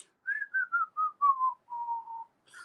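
A singer's whistle-register notes, a string of high, clear, sustained tones in a descending run of about eight separate phrases, close and fairly loud, with no other sound beneath.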